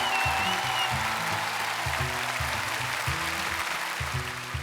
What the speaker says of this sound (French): Applaudissements pour les artistes,